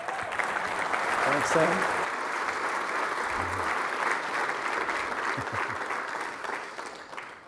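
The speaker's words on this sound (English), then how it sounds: "A lot of applause in that section." Sustained audience applause fills a company sales kick-off session, steady and fairly loud throughout, with a brief spoken thanks near the start.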